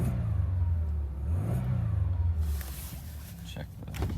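A car at an auction yard starts and revs, its engine climbing and falling in a low mid-range drone for a couple of seconds before settling amid clattery background handling noise.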